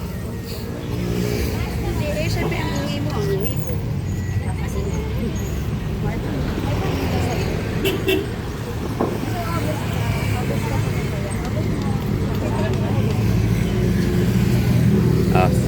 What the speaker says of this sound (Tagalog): Ngayon nakakadaan na yung mga sasakyan.